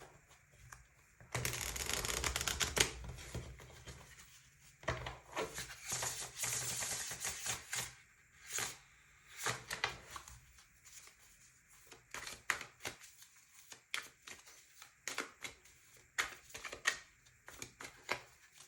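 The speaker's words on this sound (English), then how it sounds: "I'm going to draw some tarot cards" Tarot cards are shuffled close up in repeated riffling bursts with snappy flutters and taps. The long dense runs early on give way to shorter, choppier bursts, quiet and with no talk.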